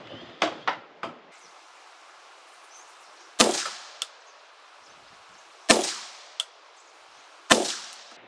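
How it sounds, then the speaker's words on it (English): Three sharp rifle shots fired at a target with an ACOG-scoped rifle on an outdoor range, each a loud crack with a short ringing tail, spaced a couple of seconds apart, followed by lighter metallic clinks of steel being hit. "let's go ahead and fire 3 rounds"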